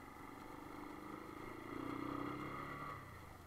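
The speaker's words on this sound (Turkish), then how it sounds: "Motor sesi duyuyor" A car engine runs steadily while driving over a rough road, a continuous mid-pitched drone with a slight swell near the middle, recorded close from inside or on the vehicle with wind noise mixed in.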